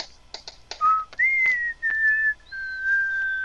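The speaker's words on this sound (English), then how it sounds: "No whistling." A person whistles a short wandering tune up close, clear pure notes sliding and held, with a few breathy clicks and pauses between phrases in a quiet room.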